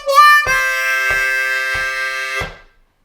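A C harmonica plays a lick: a short rising note, then a sustained chord pulsed in four even beats, clear and close, ending with a quick fade.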